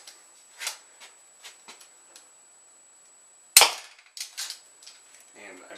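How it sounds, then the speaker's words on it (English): An NcStar crossbow with a scope fires at a target a few feet away, giving one sharp, loud snap and thud near the middle. Softer clicks and handling knocks from the bow come before and after it. "And I'm shooting the target probably from, what is that, 4 or 5 feet"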